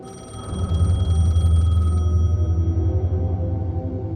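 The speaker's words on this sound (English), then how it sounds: "The payphone was ringing." A payphone ringing in the video game Alan Wake II, a loud electronic bell tone trilling steadily nearby in one continuous ring that softens toward the end.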